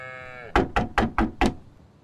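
A steady tonal hum gives way to five solid, close knocks on a thick wooden door at a stone house, evenly paced and loud, then quiet.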